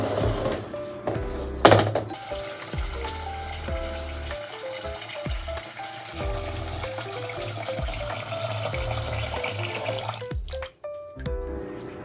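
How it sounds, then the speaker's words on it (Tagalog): Rinsed rice in a pot gets its water for steaming, a quiet splashing pour with drips and small clinks of the container, close by. "Pagtapos natin po banlawan, lalagyan na natin po ng tubig."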